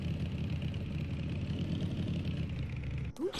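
A motorcycle engine in Night of the Dead hums steadily at a medium pitch, then cuts off abruptly near the end, followed by a short thud.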